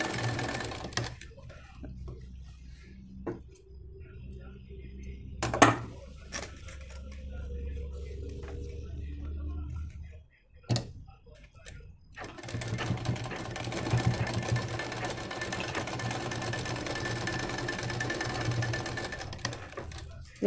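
A sewing machine stitches a blouse with ari work, running in steady continuous bursts. A short stop with quieter handling noise comes first, then a long unbroken stretch of sewing.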